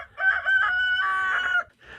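Close up in a chicken coop on a snowy morning, a rooster lets out one loud, clear cock-a-doodle-doo, followed by a brief soft cluck.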